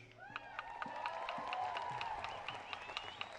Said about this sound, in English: Round of applause for Stephen.